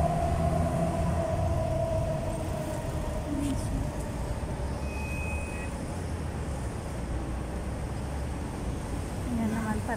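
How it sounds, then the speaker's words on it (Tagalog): A metro train in the UAE rumbles past at a station near a night market, a steady low roar with rail hum and a faint high squeal, over background crowd and traffic noise. "Ayan na, dumating na ang tren."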